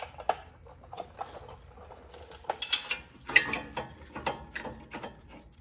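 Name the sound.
ratchet tightening a brake caliper bracket bolt on an Acura RSX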